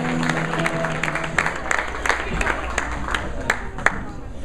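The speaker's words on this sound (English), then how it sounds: "Big round of applause for Chuck, the father of the bride tonight" Wedding guests applaud the father of the bride at an evening reception, a steady patter of many hands with sharp individual claps standing out, sustained throughout at moderate loudness.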